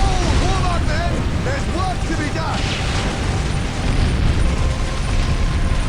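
Heavy Grok cannon fire in the Space Marine game's Crucible mod, a dense, continuous barrage of booms and mechanical clatter with a battle din running throughout, with a voice talking over it.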